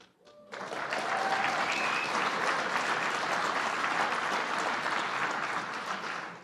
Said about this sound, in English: thank you, Mayor Bowser, for leading the clap.